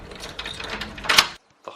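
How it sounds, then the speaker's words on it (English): A hostel room door lock being turned makes a close, brisk mechanical clicking and ratcheting, ending in a sudden stop followed by a faint clatter. "the easy to remember door locks backwards so that whichever way you turn it is wrong"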